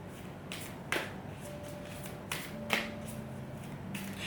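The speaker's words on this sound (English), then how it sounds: "It's taking quite some time for me to shuffle." A tarot deck is shuffled by hand, giving a few soft, scattered snaps and riffles spaced over several seconds against a quiet room hush.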